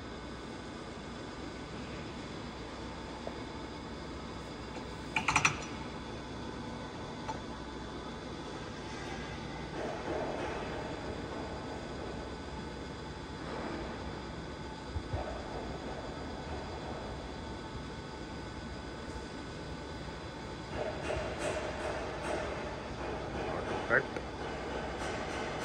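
Kao Ming KMR-980 S radial arm drill with 40 mm capacity running at its maximum feed rate: a steady mechanical whine and hum throughout, with a few brief clanks and knocks, under occasional talk.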